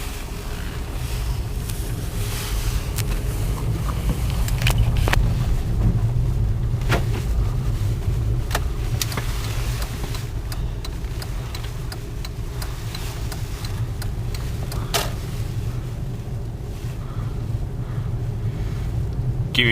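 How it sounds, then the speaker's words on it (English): Wind blows across the mountain top of Mount Lemmon, Arizona, a continuous loud low rumble buffeting the microphone, with occasional sharp knocks and gusts and no talking. "It is pretty windy up here."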